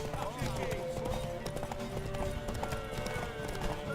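Horse hooves clip-clopping at a gallop in a video game, a steady rapid beat under game dialogue and background music, with a brief whinny.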